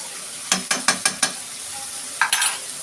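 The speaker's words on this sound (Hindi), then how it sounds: "हमारा ग्रीन चिली चिकन भुनना शुरू हो गया" Green chili chicken with ground garam masala frying in a pan, a quick series of five sharp spoon scrapes and stirs followed by two more, over a soft sizzle, close and alone.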